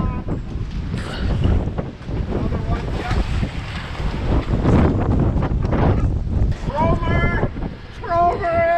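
Strong wind buffets and roars across a Great Lakes shoreline during a shore fishing outing, steady and close with gusty rumbling, while people talk over it.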